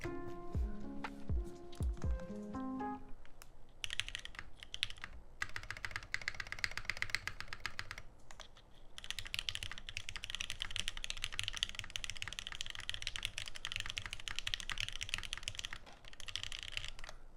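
Steady, rapid typing on an affordable mechanical computer keyboard with CRP Arabic keycaps, close and continuous with dense clicky keystrokes, preceded by a few seconds of brief tonal sounds.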